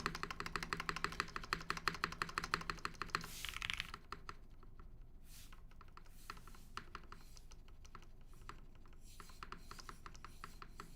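Typing on a custom Flybeck Zoku mechanical keyboard with a lubed spacebar, busy rapid clacking up close, then sparser, quieter keystrokes continuing alone.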